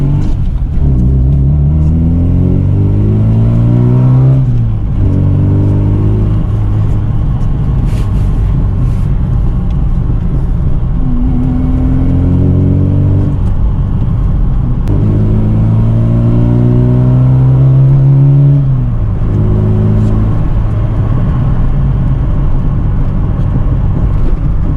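A 1986 Ford Capri with a 2.0 Pinto engine drives a back road, its engine droning loudly through repeated rising revs and gear changes from inside the cabin, with no talk.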